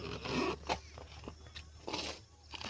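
The boot lid of a TVS iQube electric scooter is unlocked with a key and opened: a few short, close clicks and scraping latch noises in quick succession, with no speech.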